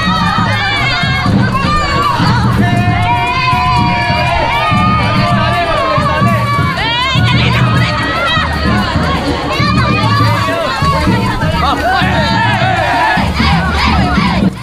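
Children shout and squeal excitedly close to the camera at a town fiesta in Tanza, a loud continuous crowd of young voices with cheering throughout.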